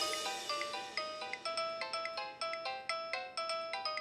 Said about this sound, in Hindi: दीदी अभिमन्यु बाबू का फोन है